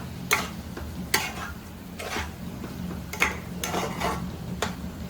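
Cowpea and cauliflower curry stirred in a pan after coriander goes in, a spoon scraping the pan in a few separate clinks over a low steady simmer with no talking.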